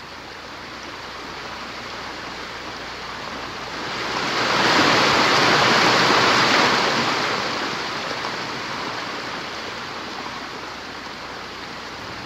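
Water flowing over the broad carved stone bed of the Lavapatas ceremonial fountain in San Agustín, Colombia, where a creek runs across rock: a steady, close rushing wash that swells louder in the middle and then settles back, with no voices.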